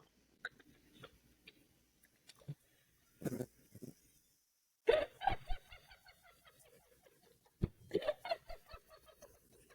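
A person's voice imitates a chicken clucking, with scattered short clucks and a couple of louder bursts separated by silent gaps, fairly quiet overall.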